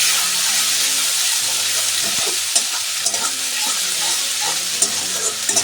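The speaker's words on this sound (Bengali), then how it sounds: "মশলাটাকে দিয়ে এবার আর একটু কষিয়ে নেব" Masala spices being sautéed in a pan for an egg kabiraji cutlet dish, with a steady, close broadband sizzle of frying throughout and soft scraping stirs of a spatula scattered over it.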